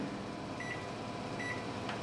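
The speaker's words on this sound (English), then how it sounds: "And stick them in the microwave for" A microwave oven runs steadily while heating nachos, a continuous low hum with faint higher whine throughout, alone with no talk.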